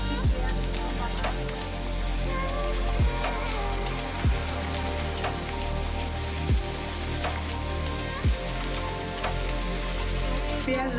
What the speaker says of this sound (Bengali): ভাজা হয়ে গেলে তার মধ্যে আমি দিয়ে দিচ্ছি পেঁয়াজ বাটা